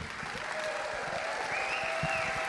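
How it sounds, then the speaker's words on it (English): An audience applauds steadily at an in-person event, a dense continuous wash of clapping from a group, heard fairly distant with faint voices mixed in. "Hey, another round of applause."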